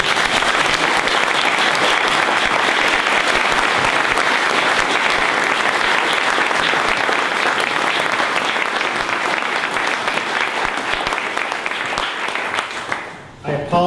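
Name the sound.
audience applause thanking the speaker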